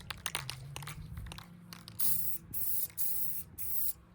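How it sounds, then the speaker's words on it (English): An aerosol spray paint can hisses in three short, even bursts with brief pauses between, preceded by light crinkling and handling noises, close and fairly quiet. "And when spraying, do a continuous motion."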